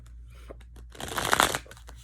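Tarot cards being shuffled, a short riffling burst building to a dense flutter in the middle and tapering off, close and alone with no talk.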